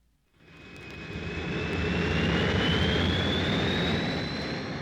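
A jet airliner passes overhead. Its roar fades in and swells to a broad, steady rushing drone with a faint rising whine, alone and without speech.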